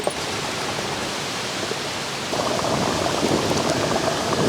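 Rain falling outdoors during open-air cooking over dried palm fronds, a steady hiss of drops that thickens and grows louder partway through, with no voices.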